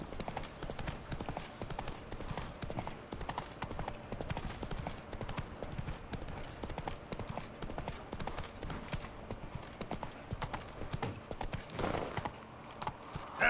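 Roach the horse gallops steadily in The Witcher 3, a rapid, continuous clip-clop of hooves running close and loud throughout, with faint game ambience beneath.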